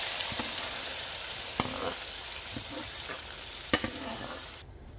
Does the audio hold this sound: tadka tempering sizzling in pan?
yes